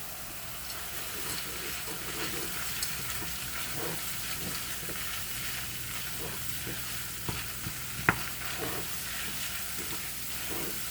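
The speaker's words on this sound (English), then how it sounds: "And we'll let that simmer." Keto stew simmering and sizzling gently in a pot, a quiet continuous crackle with faint bubbling and a sharp clink of a utensil midway.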